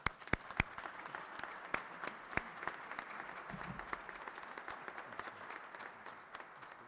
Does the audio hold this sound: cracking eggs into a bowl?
no